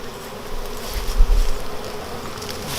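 A honeybee swarm in a garage gives a dense, continuous buzzing drone that swells briefly and then settles back.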